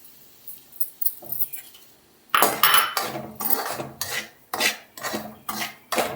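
Semolina and ragi flour stirred while roasting in ghee in a pan, with repeated close metallic scrapes and clinks of a spoon against the pan in an irregular rhythm.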